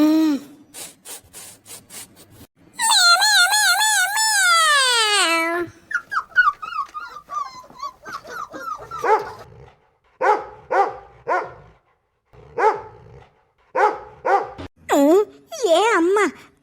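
Cartoon dogs bark in short bursts, with rising, pitched growl-like calls and a long sliding howl, alternating with brief silences.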